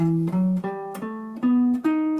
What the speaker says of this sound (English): a melodic minor scale, if I were just to play it with a stationary fingering